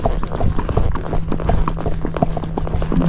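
A Missouri Fox Trotter mare's hooves clip-clop in a steady, quick walking rhythm on a road while being ridden, close and clear over a low constant hum.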